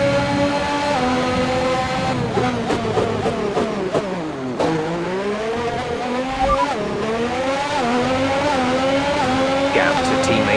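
A Formula 1 race car in F1 2021 at the US Grand Prix in America, its engine screaming loud and close, revs climbing and dropping sharply through gear shifts and braking, no talking.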